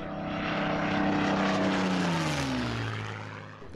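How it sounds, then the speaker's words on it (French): A Transall military transport aircraft flies past at low altitude, its propeller engines droning loud and steady, then sweeping down in pitch as it passes and fades away. "Un vol en Transal, basse altitude avec l'Anjou."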